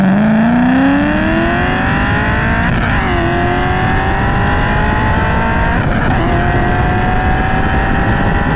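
All-motor 4.6 Mustang accelerating hard in a street race, heard from inside the car as a loud engine roar climbing steadily in pitch, with two brief dips at gear shifts, no talking.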